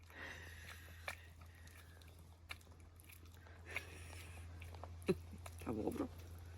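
An older dog eats quickly outdoors at a spring campsite, with faint close crunching and biting bursts near the end over a steady low hum and quiet background.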